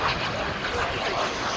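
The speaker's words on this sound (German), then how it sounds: "die Vixen ist hier in einem langsamen Überflug von rechts nach links" Scale model turbine jet, a Vixen flown with radio control at a model jet display, making a slow low pass from right to left; a steady broadband whoosh and roar holds at even loudness throughout.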